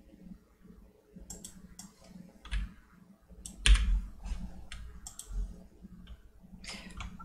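Logitech keyboard and corded Logitech mouse clicking at a desk, a scattered run of sharp close taps and clicks in irregular bursts with soft background hum and no talk.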